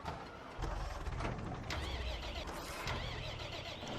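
A big tractor's engine in the farming game Farming Simulator 15 rumbles along as a steady mid-pitched drone, swelling after a short quiet start and running on continuously and close, with no one talking.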